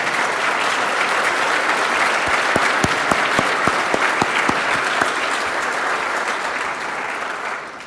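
An audience at a Canadian Club event gives a round of applause for standing student tables, a long dense clapping that builds, carries a few sharp louder claps mid-way, then tapers off.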